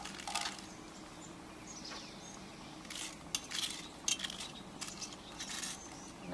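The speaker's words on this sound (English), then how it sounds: "I took some foil and made some little balls of foil. And I'm going to drop those in the bottom of the pot." Small balls of aluminum foil dropped into the bottom of a cast iron Dutch oven make a few light, scattered metallic clinks and rattles close by, spread over several seconds with quiet gaps between them.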